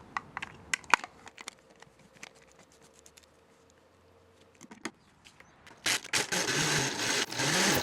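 An Oster Pro 1200 Plus blender with kale, banana, ice and yogurt, first a few clicks and brief pulses, then the motor roaring up loud and continuous near the end.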